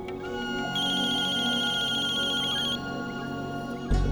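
A phone ringtone chimes indoors, a bright repeating electronic melody that sounds clearly and steadily for a few seconds before a soft thump ends it.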